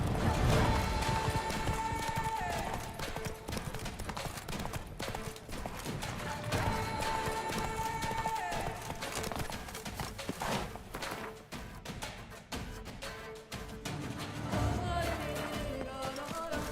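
Hooves of Roach, the horse from The Witcher 3, clip-clop at a gallop over a steady bed of game music, with a brief whinny-like cue and mechanical clanks mixed in throughout.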